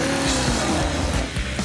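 LS-powered Pontiac Trans Am on a drag strip during a drag racing game show, a loud, continuous engine roar with shifting tones and tire noise across a short burst, no talk.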